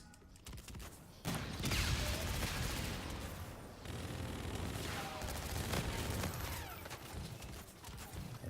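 Rapid automatic fire from the OSA gun in Infinite Warfare during a team deathmatch, dense bursts of shots layered over game effects and background noise, continuing for several seconds.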